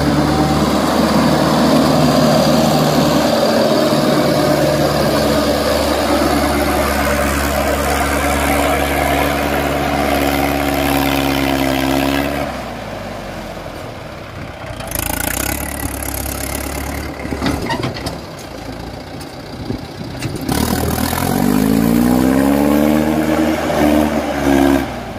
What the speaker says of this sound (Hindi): अच्छी पावर लगाई है भाई ट्रैक्टर ने।